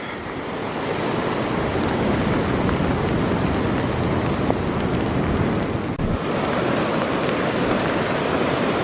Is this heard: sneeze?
no